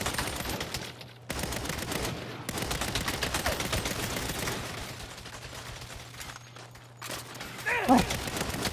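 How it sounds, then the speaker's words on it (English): Police open fire on the player in Saints Row, rapid bursts of gunfire and machine-gun volleys rattling almost nonstop, with brief pauses between loud, close barrages. "Now I got cops shoot me too?"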